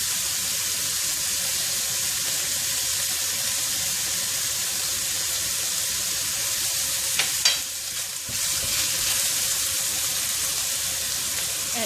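Prawn fried rice stir-frying in a pan with oyster sauce just added: a steady, close sizzle throughout, with a short burst of clattering stirring near the end and no talk.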